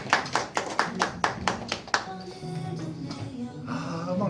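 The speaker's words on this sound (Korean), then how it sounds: "박수 쳐주세요" Church congregation at a Sunday service clapping hands, about eight sharp, evenly spaced claps close by, followed by a softer, murmuring stretch as the clapping fades.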